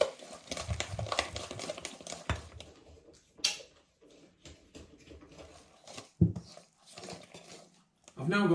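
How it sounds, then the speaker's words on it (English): Cinnamon and almond extract are stirred into a banana, cherry and walnut loaf cake mixture in a bowl, giving soft scraping and occasional clinks of a spoon, close and fairly quiet, with a person talking in between. "And in goes the cinnamon. And I'm going to stir that in."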